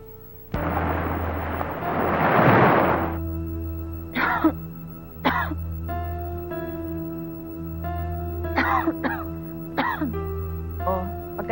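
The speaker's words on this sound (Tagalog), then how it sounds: "Inuubo na kayo." A woman coughs and clears her throat in a long rough burst near the start, followed by several shorter coughs spread through the rest of the clip over a steady low hum.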